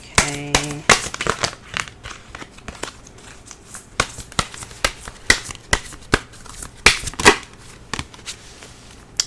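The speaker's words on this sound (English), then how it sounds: "Let's go ahead and pull a Romance Angels card." Romance Angels oracle cards being shuffled for a Pisces love reading, a close series of crisp riffling and slapping bursts with short pauses between them.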